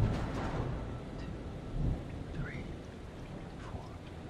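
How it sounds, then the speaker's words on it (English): A thunderstorm in the horror video game Man of Medan: steady heavy rain with a low rolling rumble of distant thunder swelling midway, under faint murmuring voices. "The storm's 8 miles away."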